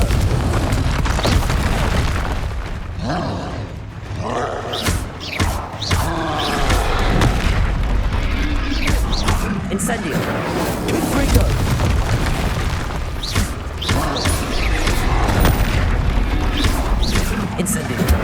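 Incendio fire spell blasts in Hogwarts Legacy, loud booming bursts repeating through the stretch with rumbling thuds and crackle between them, dense game sound with voices mixed in.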